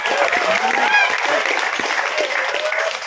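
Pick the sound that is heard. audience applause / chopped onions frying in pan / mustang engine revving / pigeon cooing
audience applause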